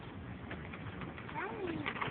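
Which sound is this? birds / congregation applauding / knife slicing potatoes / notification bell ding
birds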